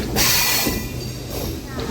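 A MEMU train pulling into Vijayawada Junction, a loud steady rumble of railcars with a brief metallic screech, close by and continuous.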